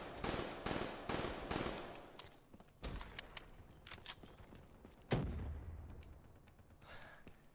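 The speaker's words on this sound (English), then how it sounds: "I was just walking while someone's sniping me." Sniper rifle gunfire in Call of Duty Black Ops 3, a run of sharp, loud shots in rapid succession at first, then scattered cracks and a heavy boom amid in-game battle noise.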